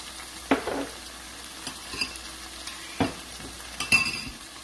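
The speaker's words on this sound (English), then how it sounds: "give it a stir" Shrimp and glass noodles being stirred in a hot pan with oyster and hoisin sauce, a steady sizzle under a few sharp utensil scrapes and clinks against the pan, close and clear with no talking.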